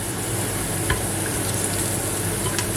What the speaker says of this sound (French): quand vous voyez que l'oignon commence à être translucide, à ce moment-là, vous rajoutez la viande